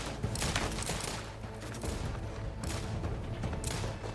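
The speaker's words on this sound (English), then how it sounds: "Shooting at me over there." Enemy gunfire in Outer Worlds 2 forms a dense, continuous rattle of shots and booms in a busy battle, loud and crowded throughout with no pauses or talk.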